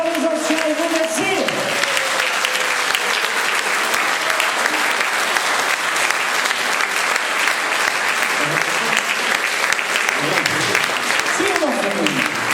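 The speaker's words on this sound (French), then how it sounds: "On applaudit encore les anciens et vous merci." Audience applause fills a performance hall, a loud, continuous, dense wash of clapping that runs the whole stretch, with a few voices calling out near the start and end.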